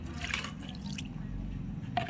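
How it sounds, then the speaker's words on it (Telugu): Plain water is sprayed onto stained white clothes during cleaning, with a couple of short hissing spray bursts over a steady low background. "నేను ఇప్పుడు వాటర్ కొట్టేస్తాను నార్మల్ వాటర్"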